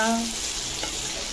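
Potatoes fry in a pan in a home kitchen as breakfast cooks, giving a brief, steady, fairly faint sizzle with a soft hiss throughout.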